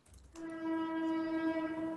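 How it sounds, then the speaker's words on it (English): A train horn sounds in a long, steady, loud blast with a rich layered tone, entering abruptly after a brief quiet moment and holding at a constant level to the end. "Uh-oh. Train."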